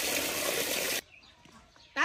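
Crayfish being rinsed in a large basin of water, giving a second wash with a loud, steady rush of running water for about a second, then quieter splashing and handling.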